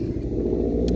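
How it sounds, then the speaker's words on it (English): Road traffic rumbles continuously nearby during a metal detecting outing, a low steady engine drone with no voices over it. "Sorry about the traffic noise."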